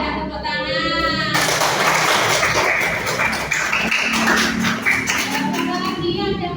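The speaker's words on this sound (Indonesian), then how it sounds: "Berikan tepuk tangan." A class of primary school children claps together in a classroom, a burst of dense, loud clapping that begins suddenly and continues steadily for several seconds, with a teacher's voice heard before it starts.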